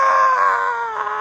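A zombie in the game Stubbs the Zombie lets out a loud, sustained, tonal scream that wavers slightly and holds steadily close without pause.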